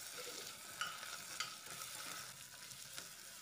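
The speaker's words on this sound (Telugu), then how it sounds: "ఈ అల్లం వెల్లుల్లిపాయ పేస్ట్ కొంచెం పచ్చివాసన పోయిందాక చక్కగా ఉల్లిపాయల్లో ఫ్రై చేసుకోవాలి." Ginger garlic paste frying with onions in a pan, a steady close sizzle with a few soft stirring clicks, no talk.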